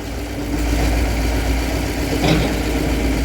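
A truck's engine runs in a steady, close, low drone with a faint rough vibration.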